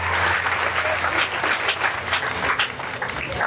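A congregation in the Tabernacle church in Cap-Haïtien claps together in a lively, continuous burst of applause, slightly uneven in loudness, with scattered crowd noise underneath.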